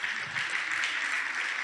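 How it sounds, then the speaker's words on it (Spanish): Brief, steady burst of audience applause at a church prayer service, moderately distant and even throughout with no voices over it. "Dese un aplauso, por favor."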